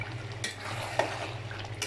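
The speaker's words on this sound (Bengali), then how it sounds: "এবার আবার নেড়ে চেড়ে দিচ্ছি।" Duck meat curry is stirred in a pan, a spoon scraping through the thick, spiced mixture with a couple of metallic knocks over a low background sizzle.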